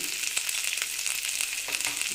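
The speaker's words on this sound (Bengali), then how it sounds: "গাজরটা যতক্ষণ ভাজা না হয় ততক্ষণ আমাদের এটা একটু ভাজতে হবে।" Carrots frying in a pan with turmeric and salt sizzle steadily up close, with occasional soft clicks of stirring.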